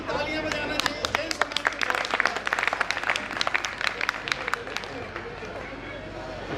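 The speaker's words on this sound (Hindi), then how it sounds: "पूरे समाज को तालियां बजाना चाहिए।" An audience at a Hindi motivational poetry recital breaks into lively applause, dense crowd clapping with sharp nearby claps and some murmuring voices, thinning out in the last seconds.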